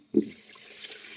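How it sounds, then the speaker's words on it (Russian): Water poured onto rice in a multicooker, a brief splash followed by a steady, light running pour, close and alone. "Добавляю немного воды, чтобы покрывал рис на один палец буквально."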